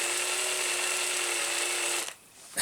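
Small power drill fitted with a tiny bit, used while preparing an HPI RS4 RC car: a steady high whine running close and loud for about two seconds, then cutting off abruptly.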